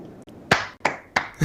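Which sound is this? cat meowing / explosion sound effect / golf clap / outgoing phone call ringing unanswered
golf clap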